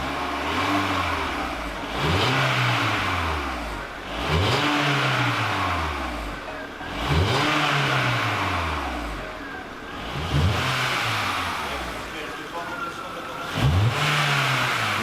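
A car engine revs hard in repeated bursts, each rising and falling in pitch, about six times over fifteen seconds, loud and close with faint talk in the background.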